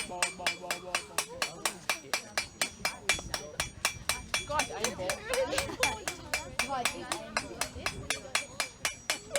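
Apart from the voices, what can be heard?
hammer tapping metal on anvil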